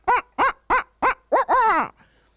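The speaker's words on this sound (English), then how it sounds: "you might also hear the caterwauling where it sounds like monkeys in the woods" Owls give a series of loud, hooting, monkey-like caterwauling calls: five short rising-falling whoops in a quick even rhythm, then a longer wavering wail, close and clear with no talk.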